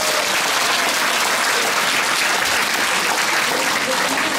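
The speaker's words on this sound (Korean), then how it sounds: "여러분 큰 박수로 환영해 주시기 바랍니다" An audience at a Korean policy debate forum claps in welcome, a dense, even wash of applause throughout with no pauses or speech.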